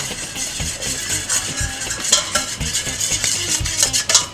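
Salmon tartare being stirred by hand with sesame oil, lime juice and sweet spices such as paprika, ginger and cumin, giving a steady run of close, wet scraping and light clinks from a utensil against the bowl.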